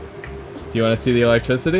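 Ventilation fans run inside a camper van with newly installed electricity, a low steady whir sitting underneath a person talking.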